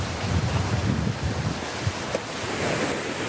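Strong sea wind buffeting a fishing rod and microphone on the shore while fishing for sea bream, a steady broadband roar with surf-like rushing and gusty rumble, no voices.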